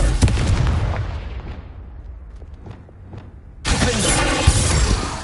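A Confringo fire spell blasting in the Hogwarts Legacy video game: crackling bursts at the start that fade into a quieter stretch, then a loud, sustained explosive roar that holds to the end.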